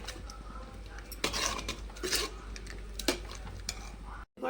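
Tamarind juice poured into cucumber dal in a pot, with a soft steady pour under clinks of a metal utensil against the vessel, close and fairly quiet, with no talk.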